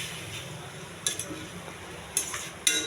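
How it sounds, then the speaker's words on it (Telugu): Grated carrot is stirred in a dry pan with no oil or ghee while making a carrot sweet. Soft scraping runs throughout, broken by three distinct metallic clinks of the utensil against the pan. "ఈ పెనంలో తురుము పెట్టుకున్న కొంచెం పచ్చివాసన పోయేంత వరకు ఎగించాలండి"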